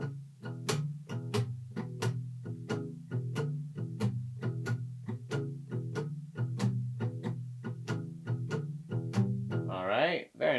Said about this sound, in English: All right, so palm muting, which will make it sound like this.